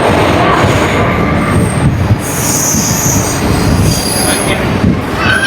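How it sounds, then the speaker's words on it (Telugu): A train pulling into Khammam station, its wheels squealing loudly and continuously with shrill metallic tones over a rumbling rail bed, close by and with no talk. "రైలు కూడా వచ్చింది."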